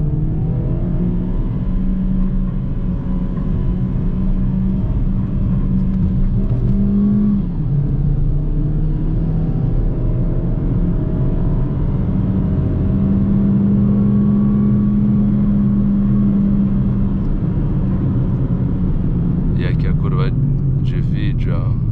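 A 2024 Peugeot 208 1.6 with automatic transmission accelerating on a road, steady loud engine drone rising and falling in pitch through gear changes, heard from inside the cabin.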